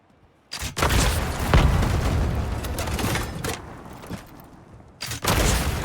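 Rocket launcher blasts tearing through grey stone building walls in the video game Highguard, a loud sustained burst of explosive booms and crumbling debris, a brief pause, then another heavy blast near the end.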